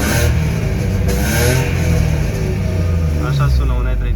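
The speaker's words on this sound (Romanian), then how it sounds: "Așa sună un E34." A BMW E34 engine with a faulty alternator warning revs up and settles, a mid-pitched rising and falling roar close by, with someone talking over it.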